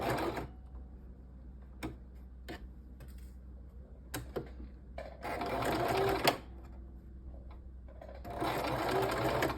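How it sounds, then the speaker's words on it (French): A domestic sewing machine stitching pleated waffle fabric, heard up close in a few short bursts and then longer runs of rapid mechanical stitching, separated by quiet pauses and small clicks. "Donc là, on va commencer à coudre."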